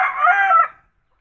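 A single close, loud rooster crow from backyard chickens kept with many chicks, a brief strained call lasting under a second and then cutting off into silence.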